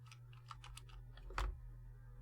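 Keystrokes on an unstable computer keyboard during a honeypot hardware and OS setup, a short run of light clicks ending in one louder tap over a steady low electrical hum.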